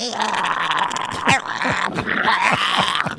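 A faulty synthesizer emits whining, puppy-like yelps and sliding pitch swoops over a continuous buzzy tone, loud and close, repeating irregularly.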